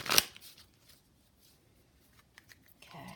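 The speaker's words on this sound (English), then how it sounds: "I'm just going to shuffle a few more times." A deck of cards is shuffled at a tarot reading: a sharp riffle burst at the start, then scattered faint card clicks and a softer shuffle at the end, close and quiet.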